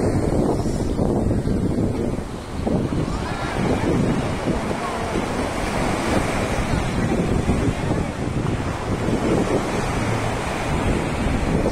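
Ocean surf breaks on the sea beach at Puri, a continuous loud wash of waves mixed with heavy wind buffeting on the microphone, with no speech over it.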